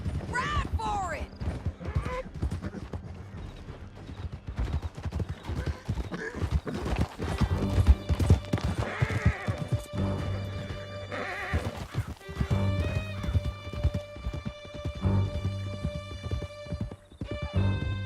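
Several horses gallop with drumming hooves during a canyon escape in Red Dead Redemption 2, steady clip-clop rhythm throughout with occasional whinnies and neighs, shouting voices over the ride, and a rising music bed.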